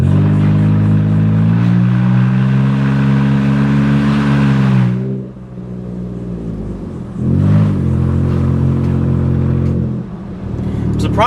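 A 2012 Jeep Wrangler JKU with a 3.6 engine, running with no exhaust past the catalytic converters, roars loud and raw as it is revved up, holds high, drops off, then climbs and holds again.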